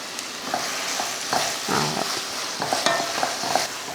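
Tomato masala sizzles in a pan as coriander leaves, curry leaves and mint are stirred in. A close, continuous frying hiss runs under repeated spoon scrapes and stirring strokes.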